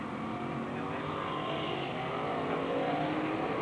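Race cars roar around the oval at Penn Can Speedway, a dense, continuous engine drone that swells slightly as the packed field works through the turn, with no voices over it.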